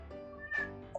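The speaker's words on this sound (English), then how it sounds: "Sorry for my cat back there." Indoor house cat giving a short, faint meow in the background, a single drawn-out call with a small chirp at the end, heard alone in a quiet room.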